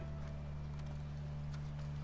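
Horse hooves clip-clop quietly in The Last of Us, a soft irregular patter under a steady low hum with no talk.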